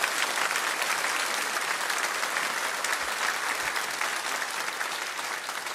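A church congregation applauds steadily at a Sunday service, sustained dense clapping filling the room from start to finish at an even, fairly loud level.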